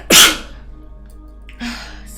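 A single loud, close sneeze bursts out near the start, followed by a quieter breathy exhale about a second and a half later during an art-painting session.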